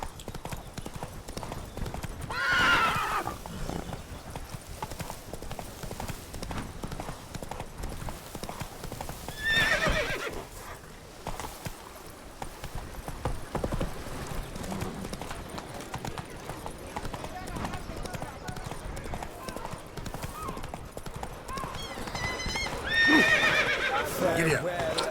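Horse in a video game gallops with rapid, continuous clip-clop hoofbeats and whinnies several times, while someone talks and swears over it.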